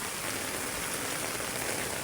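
Heavy, unbroken rain pours steadily onto a surface near a swimming pool, a dense even hiss with no pauses for the whole stretch.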